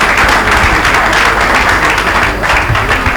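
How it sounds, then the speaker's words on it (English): Loud, close applause from a business summit audience for Patrick Ogidi, thick continuous clapping with no break. "One more time, a round of applause for Patrick Ogidi."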